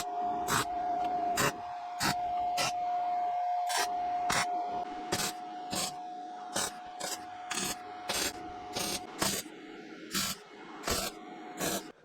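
Thin steel panel on a VW T25 van being tack welded: repeated short, sharp crackling bursts of weld tacks at irregular intervals over a steady hum, close and fairly loud.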